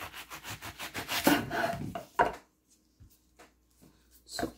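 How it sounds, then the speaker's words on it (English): A knife slices through an onion on a board for a salad with cucumber, avocado, spinach, apple and chickpeas, giving a quick run of close, rhythmic crunchy cuts that fade into a few sparse taps, with no talking. "Okay, now I cut the onion."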